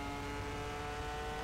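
F1 racing car engine from the F1 2001 video game at the Argentina race, a steady loud droning whine holding a constant pitch throughout, with no talk.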